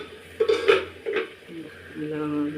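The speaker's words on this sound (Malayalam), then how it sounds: "നമുക്കൊന്ന് ഇളക്കി കൊടുക്കാം കേട്ടോ." Crab and green banana curry is stirred in a pot, with a few close metallic clinks and scrapes of a spoon against the vessel and a low voice heard briefly toward the end.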